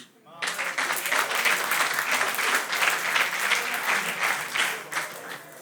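An audience at a French-language gathering breaks into applause that starts suddenly and stays full and steady, dense clapping with a few faint voices mixed in.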